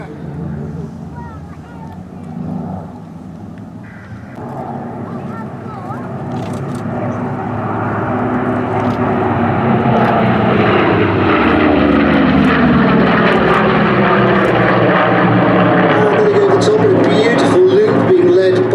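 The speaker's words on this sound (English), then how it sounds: "The yellow-nosed Corsair, that's a slightly earlier Corsair with a 3-blade propeller." A Corsair warbird's propeller engine drone builds from faint to loud and steady as it runs in close at an airshow, with someone talking over it.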